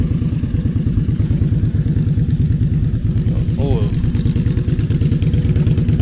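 Motorcycle engines rumble loudly and continuously close by, a steady throbbing idle with a brief voice rising over it midway.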